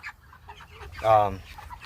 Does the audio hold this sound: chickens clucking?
yes